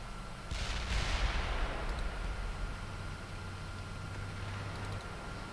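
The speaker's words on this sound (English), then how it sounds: "Mortar fire complete." Mortar fire in the tank simulator Steel Beasts Pro PE, a couple of heavy distant booms early on that fade into a low steady rumble and hiss, with no talk.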